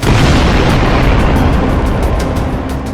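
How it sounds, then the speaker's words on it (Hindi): Loud, dense rumble of bombing explosions across Tehran, including the eastern Pardis district, with continuous booming low-end roar and crackling bursts through all three seconds, no voices. "तेहरान के कोने कोने में बमबारी हो रही है।"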